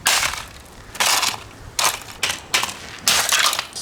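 An Andis hair dryer being broken apart by hand, with several sharp bursts of cracking and crunching plastic in quick succession, loud and close, separated by short quieter gaps.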